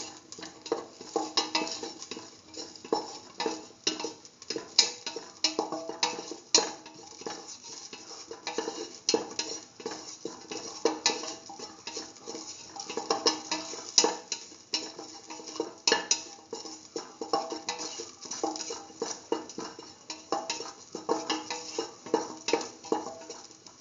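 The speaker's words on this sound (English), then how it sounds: "keep on sauteing the ginger" Ginger sautéing in a pan while being stirred, with a continuous sizzle under rapid, repeated utensil scrapes and clinks against the pan, close and steady throughout.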